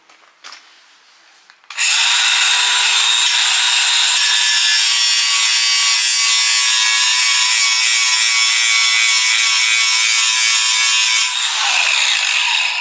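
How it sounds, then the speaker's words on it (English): An angle grinder cutting into the steel of a boat trailer to clean a spot for a welding ground, a loud steady high whine that holds for about ten seconds before it winds down. "let's get a spot ground off for our grind to go"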